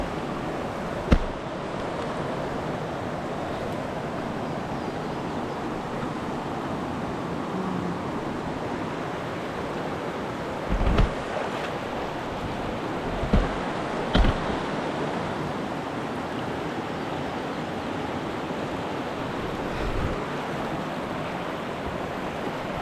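Cold river water rushing steadily around someone wading across among rocks, a continuous broad wash with a few brief splashes and knocks scattered through, no talking.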